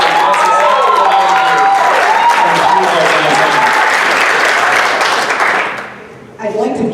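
Loud audience applause with some cheering voices fills a mayoral debate hall, a steady dense clatter that fades out near the end as a voice begins to speak.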